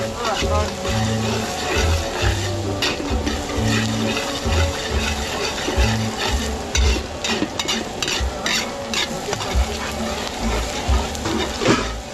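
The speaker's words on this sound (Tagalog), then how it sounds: "Ayun na natin maluto yung ating bawang sibuyas." Garlic and onion frying in a pan for a simple provincial feast in Zambales, a steady continuous sizzle with stirring scrapes, fairly loud and close, while someone talks over it throughout.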